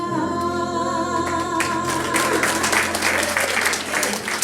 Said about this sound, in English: Great job, everyone. Great clapping.